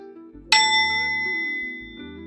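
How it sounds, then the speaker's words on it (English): A single light tap on a bell rings out with a bright, clear tone that sustains and slowly fades, over a low background hum. "tap of the bell"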